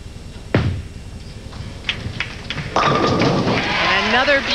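A bowling ball striking the pins at a 1999 professional women's bowling championship match, a heavy thud followed by a loud rattling crash of pins, with a commentator talking.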